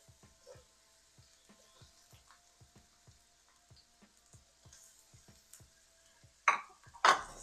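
Onion and garlic fry in hot olive oil in a wok with a soft, faint sizzle and scattered light pops and ticks, followed near the end by two louder scraping clatters.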